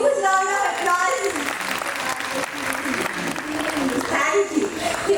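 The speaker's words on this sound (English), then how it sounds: "give a huge round of applause" Applause fills a school annual function after a song, steady clapping from a crowd continuing under singing voices and music, with a tonal melody line running over the clapping throughout.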